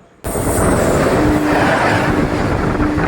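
Train rumbling past at Rajahmundry station, a loud sustained roar that starts abruptly and continues with steady wheel noise and a faint high squeal.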